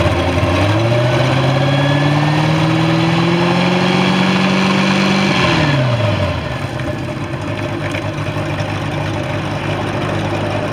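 Sea Ray boat engine running after a carburetor overhaul, loud and close, with a steady drone that rises under throttle, holds, then drops back to a lower steady run.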